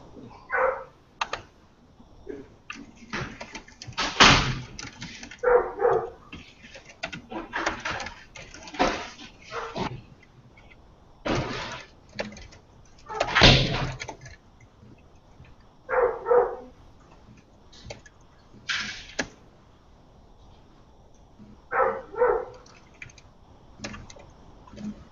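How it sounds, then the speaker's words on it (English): A pet dog at home barks in repeated short bursts throughout, fairly close, with keyboard typing clicking between the barks and no talking. "My doggy's barking."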